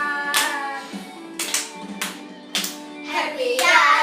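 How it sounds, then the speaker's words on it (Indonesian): Children clapping hands at a Sunday school service in a Jakarta church, four sharp bursts of clapping at a regular pace over a sung melody. "Tepuk tangan."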